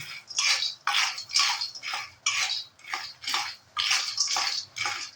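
Peanuts rattle and scrape in an iron wok as they are stirred while roasting, in rhythmic bursts about once a second, close and fairly soft.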